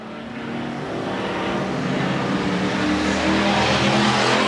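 Pure stock race car engines drone steadily at a speedway during green-flag racing, a continuous loud engine roar that builds slightly as a car struggles to get up to speed.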